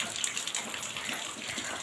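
Water runs steadily from a tap for a couple of seconds, a soft continuous gush close by with no talking over it.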